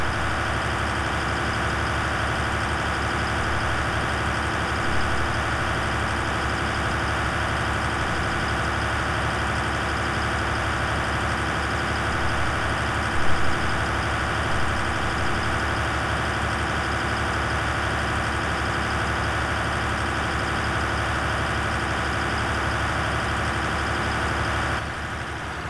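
Tractor engine in Farming Simulator 2013 drones steadily through the whole stretch, a constant even rumble with no talking over it.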